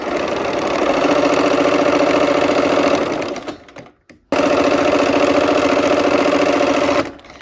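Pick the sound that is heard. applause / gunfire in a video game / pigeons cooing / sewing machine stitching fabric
sewing machine stitching fabric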